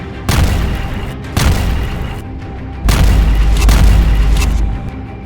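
Heavy explosions from an Israeli air strike on Hezbollah in Lebanon roll in as three or four deep, loud booms, each followed by a sustained rumbling roar that lingers between blasts.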